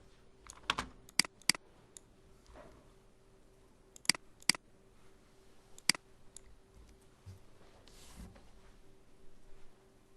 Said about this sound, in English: I'm actually typing those values into my Notepad text editor